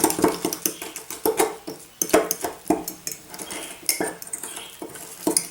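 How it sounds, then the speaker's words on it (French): Gelatin stirred into water with a utensil for homemade marshmallows, giving repeated close clinks and scrapes against the bowl in an irregular rhythm, with no voices. "Je vais mélanger."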